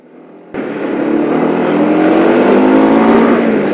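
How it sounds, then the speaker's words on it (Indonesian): A car engine with a knocking fault starts up abruptly and runs with a loud, steady, rough roar that holds without pause, no voices present. "video pertama di saat mesin suara klotok-klotok dan sangat-sangat jelas"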